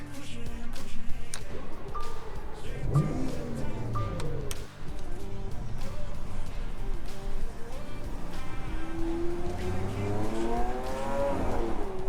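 A Lamborghini Aventador supercar drives along, its engine revving and rising in pitch through gear changes, close and loud, with a voice speaking over it now and then.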